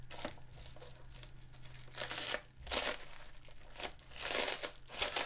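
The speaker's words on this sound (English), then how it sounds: "Let's unpack taking plastic away to access enclosure components." Protective plastic wrapping crinkles and rustles in bursts as it is pulled off flat-packed amplifier enclosure parts, close and fairly quiet, with short pauses between handfuls.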